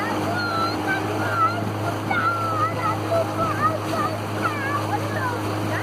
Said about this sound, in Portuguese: Só deixa o motor pra ele trabalhar.